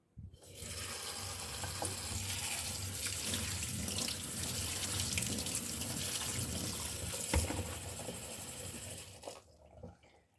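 Running tap water pours steadily onto raspberries in a colander, a continuous close splashing rush that starts abruptly and cuts off near the end.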